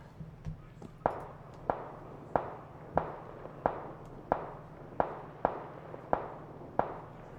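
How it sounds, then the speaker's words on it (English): Gunshots in PlayerUnknown's Battlegrounds, a steady run of about ten to twelve sharp single shots fired at an even pace, a little over half a second apart, each with a short tail, heard at moderate distance over a faint low hum. "Who is he shooting at?"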